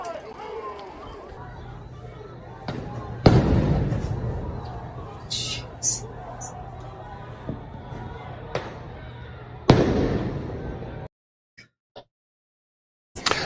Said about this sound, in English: Flashbangs are out.